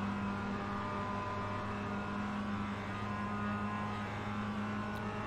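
Mazda MX5 engine held at full throttle in the iRacing sim, a steady droning whine with a constant pitch, loud and continuous with no voices.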